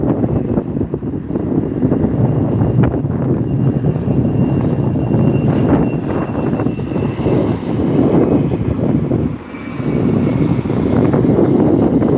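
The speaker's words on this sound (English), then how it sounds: "It is a 19-year-old aircraft coming from Las Vegas." A 19-year-old airliner in black livery, arriving from Las Vegas at SNA airport, gives a steady, loud engine roar that holds throughout, with wind buffeting the microphone and a brief dip near the end.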